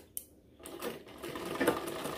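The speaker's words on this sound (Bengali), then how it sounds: "সম্পূর্ণটা আমরা এইভাবে সেলাই করে নিচের দিকে নামিয়ে দেব।" Sewing machine stitching the side slit of a kameez, a short, fairly quiet run of rapid mechanical stitching after a brief pause and a single click.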